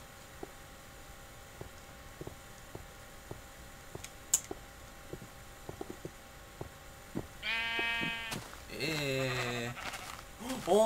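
Cows in the video game Minecraft give a few drawn-out, wavering moos in quick succession near the end, after a stretch of faint, regular clicking over a quiet background hum.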